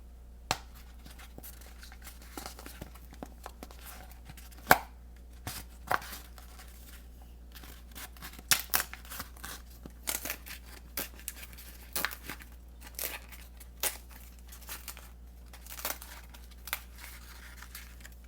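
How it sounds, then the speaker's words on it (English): An old speaker is ripped out of a car door, with scattered tearing, crinkling and snapping sounds in short bursts over a steady low hum, close and fairly quiet. "you're basically just going to rip the speaker out"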